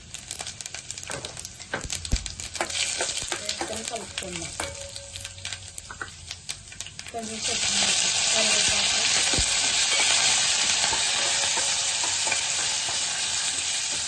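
Cumin, mustard seeds and chillies crackle and pop in oil for a tempering, then a loud, steady sizzle swells up and continues; a voice speaks briefly near the start.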